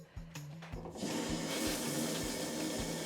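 A full-range hotel shower head at the Best Western Premier Incheon Airport Hotel sprays water, starting with sputtering, pulsing bursts before settling into a steady, close rush that has no voices over it.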